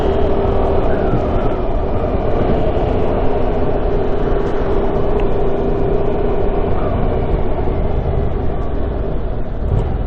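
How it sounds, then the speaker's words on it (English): A 2019 Yamaha MT-07 motorcycle rides out of town with a steady engine drone and wind rush. The engine braking runs at a constant level with no voices. "Nice bit of engine braking."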